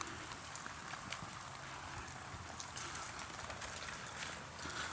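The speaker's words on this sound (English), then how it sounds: "That rain ain't no joke." Steady rain pours down during a rainstorm outside a house, a dense continuous hiss of drops spattering on surfaces, with no talking, close and even throughout.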